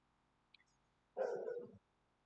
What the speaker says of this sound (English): do bear with me if you hear a dog in the background